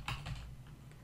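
Typing a folder name on a computer keyboard, a few quick soft key clicks in a short close burst over faint background hum.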